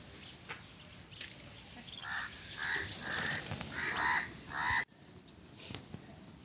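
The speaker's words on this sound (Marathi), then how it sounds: "हे पहा ते कावळे कसे घुसले, किती जवळ यायला लागले." Crows cawing close by as they crowd in around spilled rice, a run of several harsh caws overlapping in the middle, loud and near, then breaking off suddenly, with no talk.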